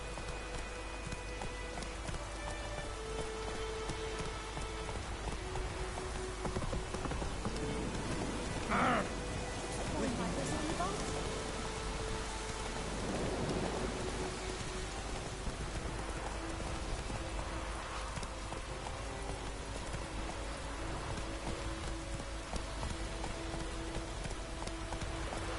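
Rain falls steadily in The Witcher 3, a soft continuous hiss under game ambience, with horse hooves clopping along the ground and a faint musical score.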